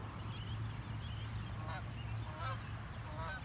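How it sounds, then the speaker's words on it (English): Canada geese honk in a few short, repeated calls at a moderate distance outdoors, set against a steady low hum and background noise. "Those are called Canada geese."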